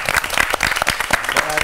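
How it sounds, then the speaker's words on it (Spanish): A studio audience applauds warmly on a talk show, dense close clapping sustained for a short burst, loud and steady. "le damos un fuerte aplauso"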